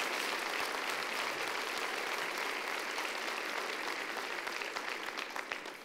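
A church congregation applauds loudly and continuously during a worship service, a full, dense roar of clapping that swells briefly near the end.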